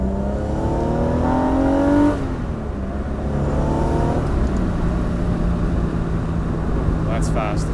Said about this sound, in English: Second gear, just roll onto it.